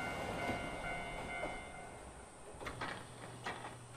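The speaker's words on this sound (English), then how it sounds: "A train is coming." A train rumbles past at a distance, with a steady mechanical drone, faint rattling clacks and occasional sharper metallic knocks, fairly quiet overall.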